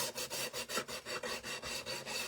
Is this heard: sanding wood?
yes